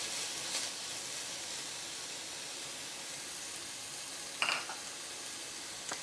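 Potatoes being stir fried in a pan, a steady close sizzle and hiss with a brief louder stir or clatter partway through and no talking.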